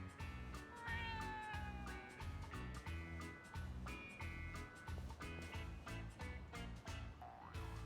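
A stray cat in the video game Yakuza: Like a Dragon meows repeatedly while being fed, its rising and falling cries over a steady rhythmic background music track.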